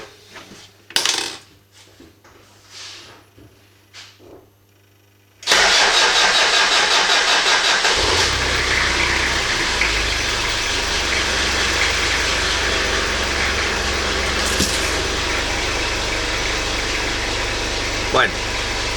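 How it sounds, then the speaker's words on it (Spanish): A car engine under a battery starting test is cranked and catches. Quiet clicks and handling come first, then a sudden loud start that settles into a steady, close idle. "Ahora vamos a hacer prueba de arranque"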